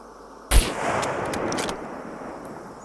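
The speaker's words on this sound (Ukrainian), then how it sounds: "От я стріляю, гучність доволі висока" A single loud gunshot from the video game SCUM cracks sharply, followed by a long rumbling echo and a few faint clicks as it fades.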